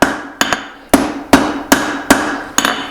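Seven loud, ringing hammer blows strike hot steel at a steady, slightly uneven pace while the faces of an 8 oz hammer head are forged, each hit close and sharp with a brief decaying ring.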